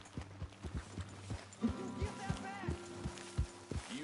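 Horse hooves clip-clopping in the video game Red Dead Redemption II, a quiet, steady walking rhythm of thuds with faint music and other game sounds layered on top.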